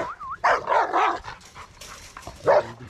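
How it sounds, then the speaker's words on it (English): Excited dogs bark and yip in several close, loud bursts with short whimpering gaps, alone without talk. "Yeah, the dogs are definitely getting excited."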